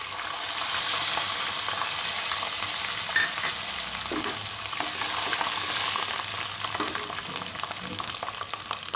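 Garlic fries in hot oil for vathal kuzhambu with a steady close sizzle, and a few soft stirring scrapes show through now and then.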